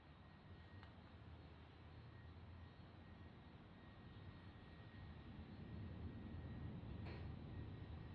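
Airplane landing at San Diego International Airport, a steady broad jet engine roar that swells slightly toward the end, heard from a distance.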